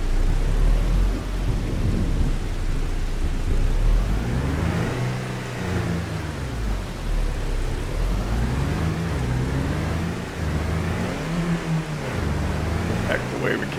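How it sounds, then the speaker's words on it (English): Steady rain with rolling thunder in Farming Simulator 25, a continuous dense wash with low rumbles swelling and fading, overlaid by a vehicle engine droning and revving through the middle. "Rain's starting to let up a little."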